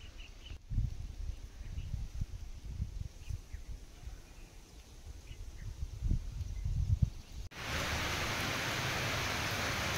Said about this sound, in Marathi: शेवटी पावसाने हजेरी लावलीच.